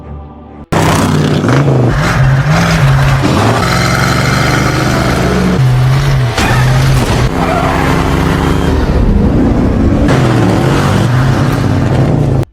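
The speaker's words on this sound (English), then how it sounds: "so Brian hit the gas again" Loud car engine revving hard and roaring steadily as the driver floors it, with pitch rising and falling through gear changes and faint tire noise, no voices.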